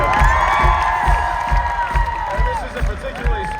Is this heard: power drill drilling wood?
no